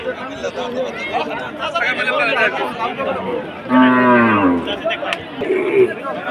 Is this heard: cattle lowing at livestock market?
yes